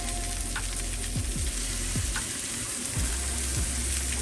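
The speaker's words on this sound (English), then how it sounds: "I have some beautiful thick cut bacon right here that I am going to lay on this grill" Thick-cut bacon strips sizzle steadily on a grill, a broad continuous frying hiss with a few low thumps and scrapes as strips are laid down.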